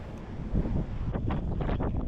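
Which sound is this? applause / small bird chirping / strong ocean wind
strong ocean wind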